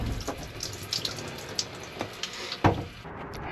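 Water running from the taps of an RV trailer, a steady hiss of flow with small splashes and clicks, close by and alone with no talk.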